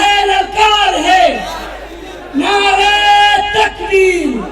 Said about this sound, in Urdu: نعرے تکبیر، نعرے تکبیر